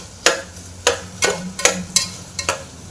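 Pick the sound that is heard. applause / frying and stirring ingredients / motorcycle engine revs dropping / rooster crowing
frying and stirring ingredients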